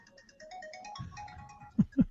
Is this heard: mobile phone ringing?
yes